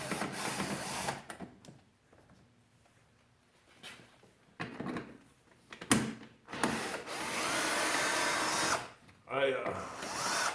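A power drill whirs in several bursts, spinning up and stopping, close by, during clutch maintenance on a King Quad ATV, with short pauses and some handling noise between runs.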